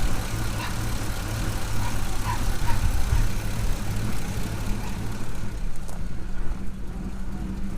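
A V8 engine runs at a steady idle after a jump start, a continuous low rumble heard close and fairly loud throughout, with no talk.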